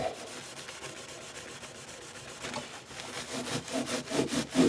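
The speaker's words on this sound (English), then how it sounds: "I'm going to take a napkin and just hit the fretboard just to clean it." Napkin rubbed briskly across the fretboard of a 1960s Yamaha SA-30 guitar, soft repeated scrubbing strokes that grow louder and quicker toward the end, close and alone.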